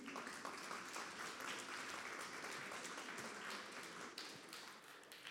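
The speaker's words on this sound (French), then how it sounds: "Je vous remercie d'applaudir Jean-Philippe Salducci." An audience applauds a Marseille maritime pilot after his talk at an event, dense, steady clapping filling the room at a moderate level and continuing throughout without voices.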